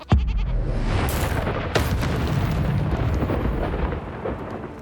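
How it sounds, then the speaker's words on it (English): In the Hogwarts Legacy video game, a sheep bleats just after an enemy is transformed, set against a deep booming rumble and steady game ambience, with no talking. "Turned him into a sheep."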